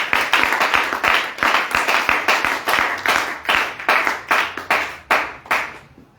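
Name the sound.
congregation clapping to acclaim Jesus in church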